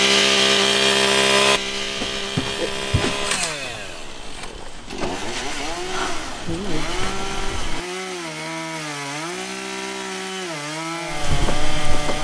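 A chainsaw revving and cutting through firewood at a forest campsite, loud and close, the engine pitch rising and falling in long sweeps as the blade bites and eases off.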